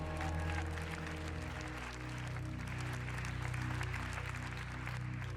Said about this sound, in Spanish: ¿podrían darle un aplauso a Jesús hoy?